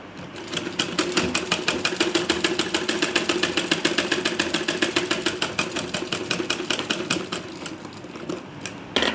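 A sewing machine runs steadily while stitching a blouse sleeve, its needle hammering in a fast, even rhythm up close for several seconds before slowing near the end, with no voices.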